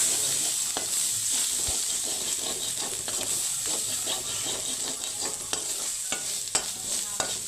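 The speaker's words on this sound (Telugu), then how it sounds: "ఇదిగోండి అల్లం వెల్లుల్లి పేస్ట్ కూడా వేగిపోయింది కదా" Ginger garlic paste with salt and chili fries in a pan for a spicy crab fry, giving a steady close sizzle broken by regular scrapes and taps of stirring.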